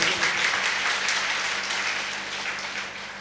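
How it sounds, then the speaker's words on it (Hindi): People at a meeting give a short burst of dense applause that slowly fades over about three seconds. "मैं चाहूंगा इन सब लीडर के लिए अब तक की सबसे जोरदार ताली से स्वागत किया जाए"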